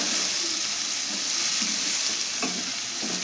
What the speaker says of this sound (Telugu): కలుపుదామండి ఒక్కసారి.